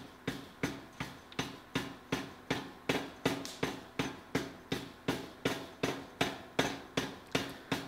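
Power hammer pounding an iron bar for an axe-hammer handle at the forge, a steady rapid train of about two heavy blows per second, sharp and evenly spaced, with no talk.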